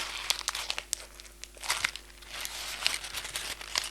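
Sheet of paper crumpled between two closing hands, a dense run of crisp crackles and sharp snaps lasting several seconds, close and fairly loud with no voices.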